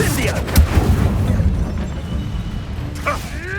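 An Incendio fire spell cast in the Hogwarts Legacy video game bursts as a loud booming whoosh, then rumbles and crackles on for several seconds while a voice speaks faintly beneath it.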